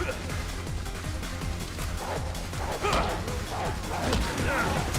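Dogs bark and yip in a Resident Evil 6 Mercenaries match, short repeated yelps and growls amid crashing game effects, with a player talking over the action throughout.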